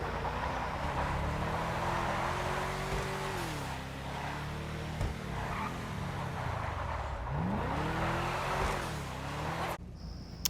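Fathom FR36 in GTA Online driving and drifting, a steady engine drone whose pitch sweeps up and down with revs and shifts, under a continuous hiss of tire noise, moderately loud throughout.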